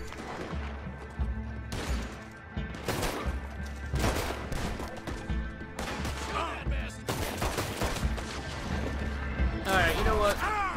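Repeated gunfire from a Red Dead Redemption 2 gunfight, with sharp shots and bursts cracking throughout over a steady game music bed, while a player talks intermittently.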